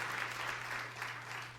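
A church congregation applauds during a service, a brief, soft burst of clapping that sounds distant and faint, with a low steady hum beneath.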